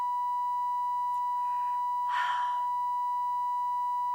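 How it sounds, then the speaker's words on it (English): A steady, unbroken telephone dial tone hums throughout, with a faint breathy sound briefly over it midway. "I kind of think like the dial tone blends in with The whistle. B. Hatcher's whistle"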